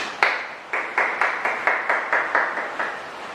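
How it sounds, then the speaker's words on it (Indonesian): In a microteaching lesson on lathe machining, a small class gives a student a brief round of applause: about nine crisp, evenly spaced claps, close and clear over a quiet room. "Tepuk tangan untuk Mas Samba."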